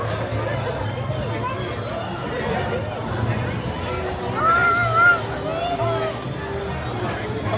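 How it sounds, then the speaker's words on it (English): Busy crowd ambience at Universal Studios theme park, a steady hubbub of many overlapping voices with a brief louder call rising out of the murmur midway. "there is a crowd here"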